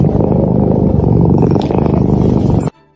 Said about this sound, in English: Here is a happy Persian purring.